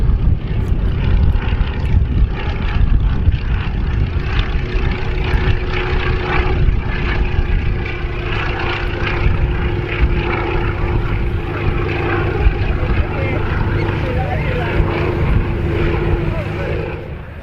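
Royal Navy multi-role helicopters fly past at the RAF Cosford Airshow, a loud continuous rotor and engine drone held steady throughout, with a low constant hum beneath it.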